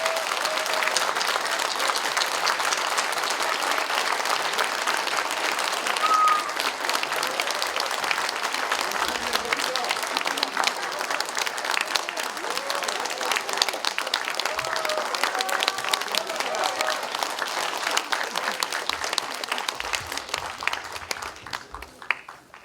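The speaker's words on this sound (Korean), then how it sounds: "큰 박수로 호응해 주시기 바랍니다" A large audience at a Korean political party gathering claps long and steadily, a dense, even roar of applause that holds for about twenty seconds before tapering off at the end.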